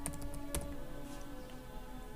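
Keys are tapped on a computer keyboard in a few faint, quick clicks over a steady background hum, with a slightly louder tap early on, no voices heard.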